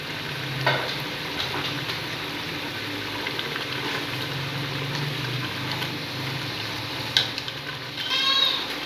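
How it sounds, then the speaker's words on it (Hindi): Mutton, peas and spices stir-fried together in a pan: a steady close sizzle with scraping and stirring clatter throughout, a few sharper clinks of the utensil near the end. "ताकि सारे मसाला जात, गोश्त और मटर आपस में अच्छी तरह मिक्स हो जाएं और भून लें इनको।"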